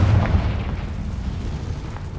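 A spell blast from the Confringo fire spell in Hogwarts Legacy on PS5 Pro: a deep booming burst at the start, then a sustained low rumble fading under game ambience.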